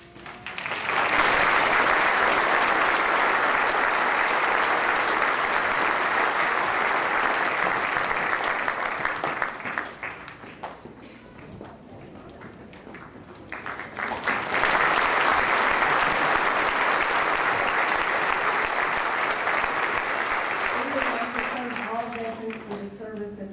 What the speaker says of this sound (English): Let's stand and give a one more round of applause.